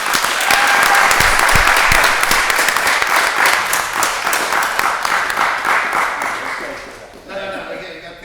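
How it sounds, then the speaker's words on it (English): A city council meeting chamber fills with loud, sustained applause from a crowd, dense clapping that holds steady for several seconds before tapering off, with voices talking underneath. "let's give one more rousing round of applause for this man right here, Dan Kinane"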